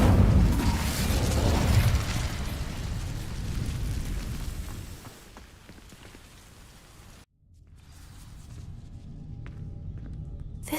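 A fire spell cast in Hogwarts Legacy, a loud roaring, crackling burst of flame that fills the first seconds, fades out, cuts off briefly, then a quieter hissing crackle resumes in the background.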